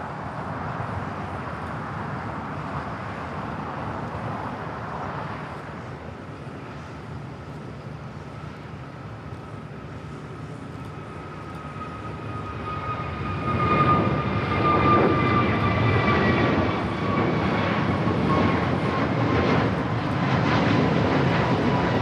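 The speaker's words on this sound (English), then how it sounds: "This is American Airlines 636 taking off to Charlotte on the A321neo." An American Airlines A321neo takes off at LAX, a steady jet roar that swells louder midway with a rising engine whine, heard alone without talk.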